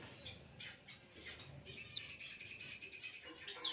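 Prince pigeon chicks and a parent bird in a wall nest give scattered short chirps and squawks, with a couple of sharp high calls and faint wing flutters over a low, steady background.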